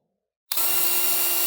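A power drill starts abruptly after a moment of silence and bores a small hole in wood for a chickadee birdhouse, running loud and steady with a constant motor whine.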